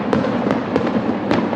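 Fireworks crackle and pop in a rapid irregular series of sharp bursts over a dense hissing, sizzling bed, loud and close with no pause across the short stretch.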